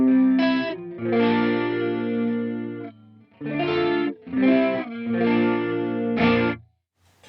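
An electric guitar played through Quad Cortex dual chorus and vintage chorus effects in a parallel chain rings out in shimmering, swirling phrases separated by short gaps, loud and up close.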